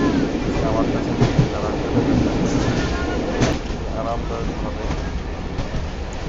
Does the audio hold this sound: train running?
yes